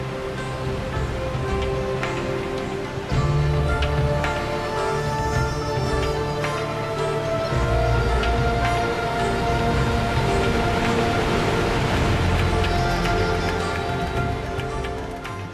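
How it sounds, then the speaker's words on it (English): The Mekong River thunders over the Kong Pha Peng waterfalls in southern Laos, a steady, loud, dense roar of falling water that runs unbroken for the whole stretch. "thundering over the Kong Pha Peng waterfalls into neighboring Cambodia"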